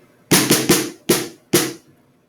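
Five crisp drum strokes played with alternating right and left sticks, three quick ones followed by two spaced hits, each loud and close with a short ringing decay.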